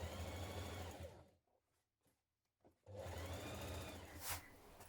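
A sewing machine stitches the curved top edge of a cross-body bag panel. It runs in a steady, close mechanical whir, pauses for about two seconds with faint handling clicks, then resumes at a similar speed.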